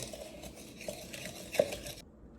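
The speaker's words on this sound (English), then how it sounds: "So I'm just gonna give it a stir." A spoon stirs brown sugar, white sugar, sourdough discard, an egg and vanilla extract together in a mixing bowl for cookie bars. Quiet, close scraping and soft clinks against the bowl, with one sharper tap near the end.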